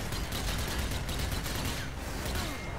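Zombies being shot in Zombie Army 4: Dead War, a steady wash of rapid gunfire that is fairly quiet and continuous, with no clear gaps between shots.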